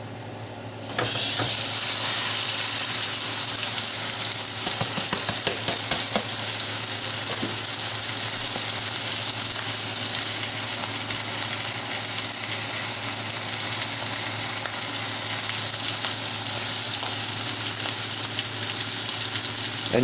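A beef chuck roast sears in about two ounces of hot canola oil, breaking into a loud, dense hissing sizzle after a brief quiet start and holding steady and close throughout.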